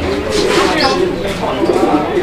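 A pair of pigeons coo softly and continuously at close range, partly buried under someone talking loudly over them.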